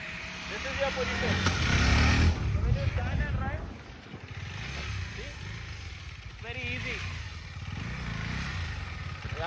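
KTM adventure motorcycle rumbling along a dirt trail, its engine note steady and fairly close, with someone talking over it for much of the time.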